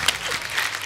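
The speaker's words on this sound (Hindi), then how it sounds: "जोरदार ताली हो जाए," A studio audience at a comedy talk show breaks into a short burst of dense applause. It stays loud and close but lasts under a second.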